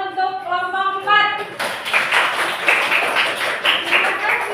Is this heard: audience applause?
yes